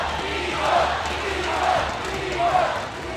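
A large arena crowd at an esports world championship roars in sustained waves of cheering and chanting that swell and fade, with an announcer's voice carrying over the top.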